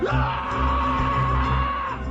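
A sustained, strained male scream holds for about two seconds over a dense, noisy backdrop, loud and continuous, as the classic scream used in the 1985 horror film The Howling 2.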